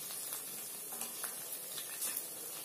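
Crispy vadas sizzle and crackle as they fry in hot oil, a steady close hiss of fine pops and spits with no one talking.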